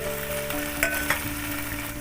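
Cauliflower korma sizzles steadily in a hot pan as spice-rinsing water goes in, giving a couple of sharper spits and a louder hiss over the continuous frying.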